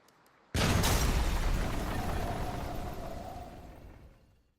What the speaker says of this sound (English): I heard the massive explosion coming from outside